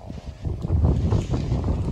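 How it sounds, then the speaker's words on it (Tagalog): Strong gusting wind roars and buffets the microphone outdoors, loud and close with rumbling low bursts throughout and no talking. "Ngayon sumobra naman yung lakas ng hangin."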